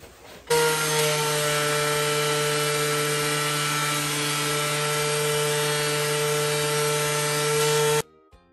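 A power saw rips wooden boards along a fence for a bathtub tray, a loud, steady whine lasting several seconds that starts and stops abruptly, with no talking.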